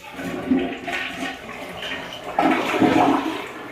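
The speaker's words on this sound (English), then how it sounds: "I better see if it flushes." Public toilet in San Francisco flushing, a loud close rush of water surging in waves and swelling again near the end before fading.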